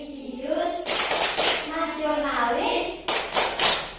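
A classroom of children performs a rhythmic PPK clapping chant before a lesson, with bursts of sharp hand claps alternating with loud chanted voices, the claps clustering in quick sets near the start and end.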